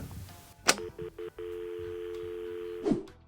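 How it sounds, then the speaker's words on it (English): A voicemail greeting tone sounds: a short click, then a few brief beeps and a longer steady electronic tone lasting about a second and a half, ending in a soft click. "At the tone, please record your message."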